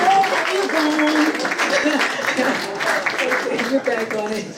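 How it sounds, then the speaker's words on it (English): An audience applauds at a 2022 UBC concert, with clapping running throughout as a voice speaks loudly over it. "Can we get a round of applause?"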